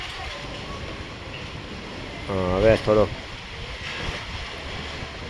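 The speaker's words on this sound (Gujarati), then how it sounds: "વરસાદ કરતાં પવનનું જોર વધારે છે એટલે પવનનું જોર બહુ જ છે।" Strong wind with rain sweeps through Mota Varachha in Surat, producing a steady, loud roar from start to finish. A voice speaks briefly over it partway through.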